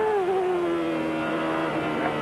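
A 1993 Nigel Mansell Indy Car video game engine whines at a steady high pitch, dipping and then revving back up as the car bounces over bumps and the rear wheels lift off.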